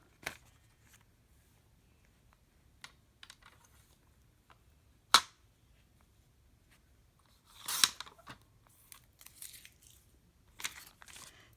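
Scissors snip jagged edges off a glassine bag in scattered, sharp crisp cuts and crinkles, close and quiet, with long pauses between bursts.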